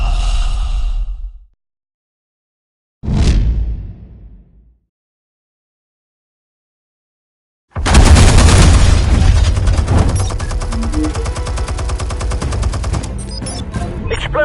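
Gunfire in the Batman Telltale Series video game on PlayStation 4 comes as two short bursts, then a long, loud, sustained barrage of dense shots and booms that continues to the end.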